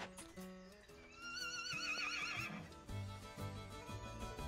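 In the Ranch of Rivershine horse-riding game, a horse gives a clear, rising whinny over background music, followed by rhythmic hoof clip-clops.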